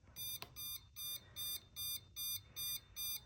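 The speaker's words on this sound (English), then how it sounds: "the light starts blinking and the buzzer starts" An Arduino-controlled electronic buzzer alarm pulsing in regular short bursts, about seven evenly spaced beeps, clear and close.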